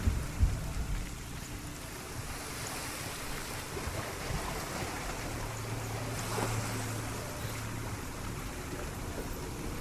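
Steady rain and wind wash through a bleak, stormy outdoor scene in Hellblade: Senua's Sacrifice, a continuous broadband hiss with faint low rumbles, no voices.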